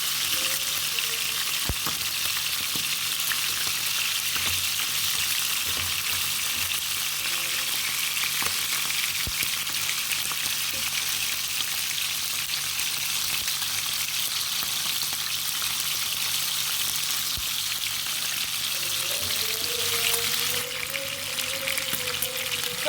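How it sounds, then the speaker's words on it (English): Small fish and calamari fry in a pan, giving a continuous, even sizzle with dense crackling spatter throughout, close and steady, with a faint tone near the end. "you can see our fish is frying there"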